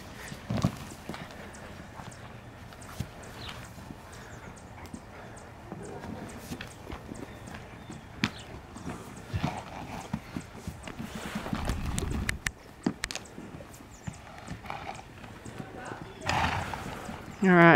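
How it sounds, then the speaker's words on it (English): Horses move about a barnyard, hooves clopping irregularly at close range with an occasional whinny, while people talk nearby and other farm noise mixes in. "All the horses are in the barnyard."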